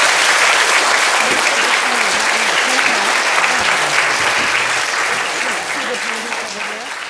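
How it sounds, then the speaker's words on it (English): A loud, full round of applause from the crowd at a keeping place launch honours Gordon, the painter. It stays dense and sustained with some voices underneath, and tapers slightly at the end. "we should all give Gordon, our painter, a big round of applause"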